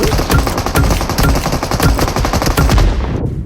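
Loud, close automatic gunfire from PUBG Mobile hammers out in a fast, steady burst of rapid shots for about three seconds before cutting off.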